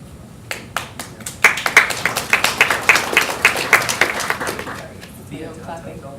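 Audience applause at an energy-for-development panel event, many hands clapping densely for several seconds, rising then tapering off, with a faint voice underneath.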